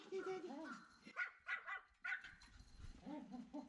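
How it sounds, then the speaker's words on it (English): A dog barks in short, sharp yips and bow-wows at a Ducati Multistrada 1200S motorcycle, the barks coming in a quick run near the mic with people talking around it. "she's barking at the bike and the motorcycle too."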